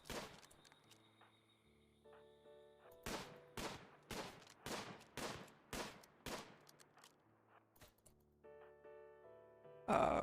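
A burst of about eight sharp gunshots cracks out in quick succession in RimWorld, with a quieter stretch before and after and soft tonal music underneath.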